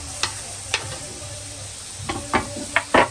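Chopped tomatoes dropped into a pan of sizzling ginger-garlic paste, giving a steady frying hiss broken by a few soft stirring scrapes and splatter pops that pick up near the end.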